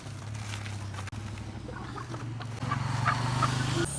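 Sasso chickens clucking and murmuring close by, a steady low chorus of several birds with occasional sharper calls, no talking.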